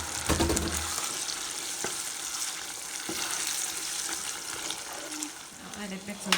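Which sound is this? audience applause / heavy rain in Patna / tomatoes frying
tomatoes frying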